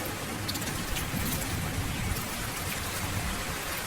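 Heavy rain in a cartoon jungle falls as a dense, continuous hiss and patter, steady and fairly soft from start to finish.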